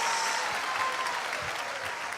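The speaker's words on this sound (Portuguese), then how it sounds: "quando for para aplaudir, vamos fazer com vontade" A church congregation applauding, a full room of people clapping together in a loud, steady wash of hand claps that continues without a break.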